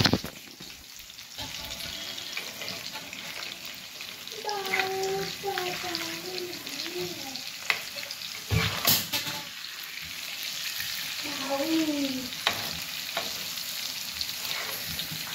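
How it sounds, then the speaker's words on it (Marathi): Fish pieces fry in hot oil in a home kitchen, a continuous close sizzle and crackle, while someone talks and hums over it. "तेल गरम आहे. इथं आपले फिश फ्राय होतात आहे"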